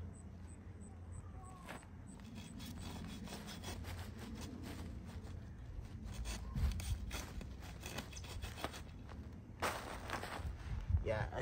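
A fig plant is cut in half for division, with a steady rough sawing and scraping rhythm through root and wood at close range, plus rustling and occasional louder bursts.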